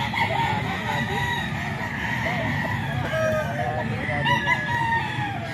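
A bullstag gamecock crows amid a busy cockfighting-farm backdrop, its calls mixing with other roosters' crowing and clucking, dense and continuous over about five seconds.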